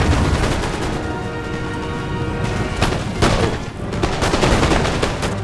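Massed musket volleys crackle in Empire Total War during the American War for Independence, a dense continuous roll of shots with sharper cracks standing out near the end.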